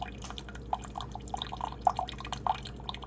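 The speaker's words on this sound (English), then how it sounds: "So we're gonna pour us 6 ounces of warm water in this cup." Warm water trickles into a cup while tea is being prepared, with a thin pour broken by small drip-like splashes that are quiet and close, and no talking.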